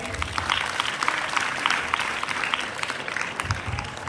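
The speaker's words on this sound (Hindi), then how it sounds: "a big round of applause for him" Audience applause at a school Indian-languages festival in Jabalpur, a steady wash of many hands clapping, moderately loud and sustained, with a few low thumps and faint crowd murmur underneath.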